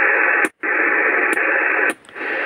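A President Madison CB radio receives with the volume turned up, giving a loud, steady hiss of static. Brief dropouts and a few sharp clicks break the hiss.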